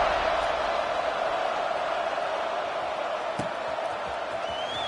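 A large football stadium crowd waits just before kickoff, a broad, steady roar of many voices heard from a distance, continuous and even throughout, with a brief thump partway and a faint whistle-like tone near the end.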